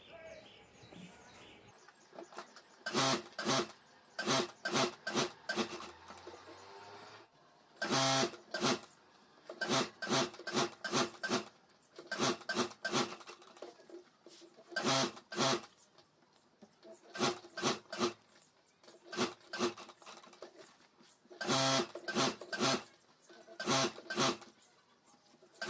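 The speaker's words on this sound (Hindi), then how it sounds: "पूरे चारों तरफ सिलाई कर देता हूँ।" A sewing machine stitching around fabric and a rubber sheet for a homemade school bag, running in short repeated bursts of rapid close clatter separated by brief pauses.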